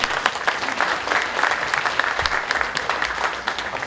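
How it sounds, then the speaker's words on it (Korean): Journalists clap steadily at a Kia Sportage press launch presentation, with a dense, continuous round of applause filling the hall at moderate loudness. "기자분들 박수 한 번 주시면 안 될까요?"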